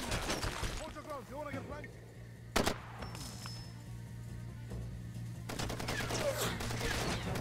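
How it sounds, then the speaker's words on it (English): Bursts of gunfire in the Far Cry 2 shooter set in Africa, a sharp shot standing out among scattered firing and a steady low engine hum, with people talking throughout. "Stop shooting at me."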